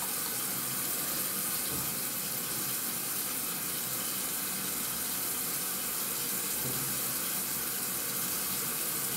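Tap water runs steadily from a faucet into a sink for rinsing during a skincare routine, a continuous broadband splashing flow that stays loud and even throughout, with no speech.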